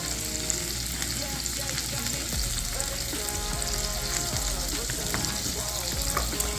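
Green onions sizzle in garlic butter in a pan, a continuous close frying crackle with small pops and occasional stirring scrapes, moderately quiet, with no talking.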